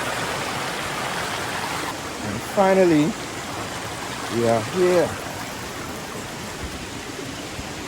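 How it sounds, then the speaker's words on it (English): Seven Sisters Waterfall (St. Margaret Falls) in Grenada, two falls high and low, gives a constant broad rushing roar of falling water while people speak briefly over it. "So these are two waterfalls, one high up, one low."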